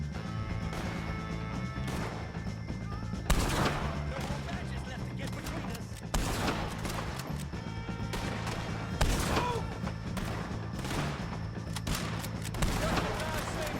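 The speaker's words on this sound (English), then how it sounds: "Take a shot on these O'Driscolls!" Repeated bursts of gunfire and crashing impacts fill a Red Dead Redemption 2 gang shootout, loud and continuous over a busy game soundscape, with voices talking over the action.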